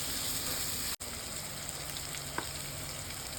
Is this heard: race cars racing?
no